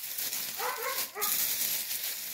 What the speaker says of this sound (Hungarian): Nagyon ugat valaki.